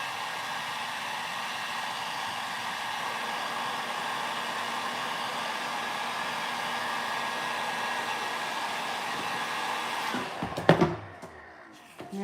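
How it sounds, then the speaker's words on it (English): A heat gun drying chalk paint on a tray blows a steady, loud airy roar for about ten seconds. It then cuts off with a few clunks and handling sounds, leaving near silence. "This stuff dries so fast, especially with the heat gun."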